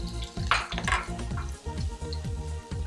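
Pork sizzling in a hot pan with butter, a steady crackling fry with utensil scraping and clinks against the pan throughout, close and fairly loud.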